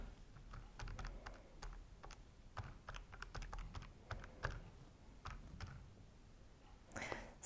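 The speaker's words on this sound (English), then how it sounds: "trusty calculator" Buttons on a handheld calculator tapped in quick irregular bursts of crisp clicks, close and fairly quiet, with no voices.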